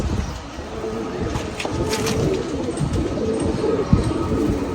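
Tournament racing pigeons cooing softly amid a steady outdoor rumble of background noise, with a sharp knock near the end.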